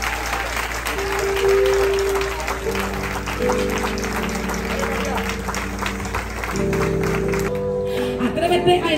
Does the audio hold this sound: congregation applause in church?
yes